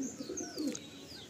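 Pigeons coo softly inside a pigeon loft, a few low murmuring calls close by with a faint higher chirp, quiet and without talk.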